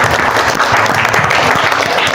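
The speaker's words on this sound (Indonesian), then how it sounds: "kasih aplaus dulu untuk" A classroom of students applauding, a dense, loud burst of clapping that carries on without pause from start to end.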